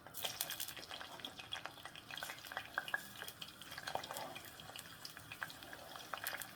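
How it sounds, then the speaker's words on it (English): Onions fry and sizzle in a pot for pilau, a soft crackling hiss with scattered pops and stirring clatter, faint and close, with no talking. "we are going to cook our onions until they are golden brown"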